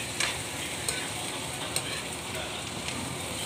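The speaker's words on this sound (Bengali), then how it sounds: "যদি হালকা পাতলা সিদ্ধ হয় আবার নাড়াচাড়া দেবেন যাতে পুড়ে না যায়" Okra fries in a pan with a soft, steady sizzle. A few faint taps and scrapes of stirring sound through it.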